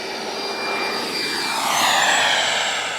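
An FMS Integral 80mm electric ducted-fan RC jet takes off with flaps down, its high turbine-like whine rising steadily and swelling louder over three seconds, with no talking.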